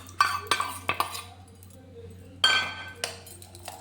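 A spoon mixes chicken marinade with yogurt and salt in a bowl, giving close, bright clinks and scrapes in short bursts, then a brief pause before more stirring.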